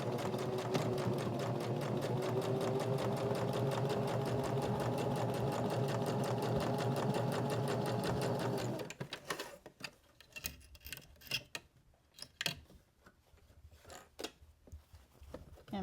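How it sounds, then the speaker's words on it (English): A sewing machine stitches a pocket onto a journal cover, running in a steady loud whir with back-stitching for about nine seconds, then stopping and leaving scattered faint clicks and handling noises. "I'm going to stitch a little bit, back stitch to reinforce it at the top."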